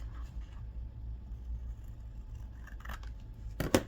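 Scissors make a couple of brief, sharp snips near the end while paper is cut for a handmade flip flop journal, over a low steady background rumble.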